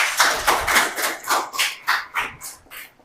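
A classroom of students claps hands in a brief burst of roughly a dozen loud, close claps that fall into a loose rhythm and slow down toward the end.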